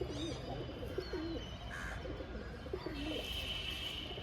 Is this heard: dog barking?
no